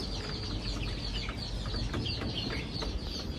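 Hens in a brooding box on a poultry farm give soft, low clucks and murmurs, faint and close, scattered over a steady background hum with no talk.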